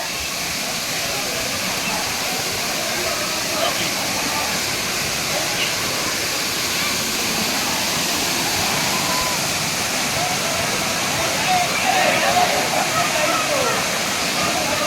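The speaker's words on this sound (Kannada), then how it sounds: "ನೋಡ್ತಾ ಇದ್ದೀರಾ ವಾಟರ್ ಫಾಲ್ಸ್ ಹೆಂಗಿದೆ" Soormane waterfall at Kalasa, Chikmagalur, during the monsoon: a steady broadband roar of falling water, close and constant, with faint voices in the background.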